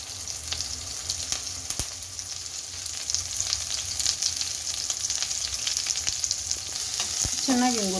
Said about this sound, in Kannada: ಈಗ ಆಯಿಲ್ ಕಾದ್ಮೇಲೆ ಬೆಳ್ಳುಳ್ಳಿ, ಜಜ್ಜಿಕ್ಕಿರೋಂಥ ಬೆಳ್ಳುಳ್ಳಿ ಹಾಕ್ಕೊಳ್ಳಿ. ಈಗ ಅದರಲ್ಲೇ ಕರಿಬೇವು ಹಾಕ್ಕೊಳ್ಳಿ.